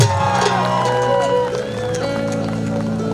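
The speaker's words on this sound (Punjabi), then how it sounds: "ਇੱਕ ਵਾਰ ਆਪਣੇ ਆਪਣੇ ਬਾਪੂ ਲਈ ਜ਼ੋਰਦਾਰ ਤਾੜੀਆਂ ਦਿਓ" A large audience at a Punjabi stage show cheers, whoops and claps in a loud, continuous wash of crowd noise, with a voice and music running beneath it.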